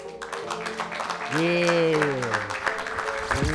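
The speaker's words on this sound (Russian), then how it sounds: "Давайте послушаем аплодисменты." Studio audience applause on a Russian comedy debate show, a steady wash of clapping that swells louder midway, with a drawn-out vocal shout or whoop rising over it before settling back.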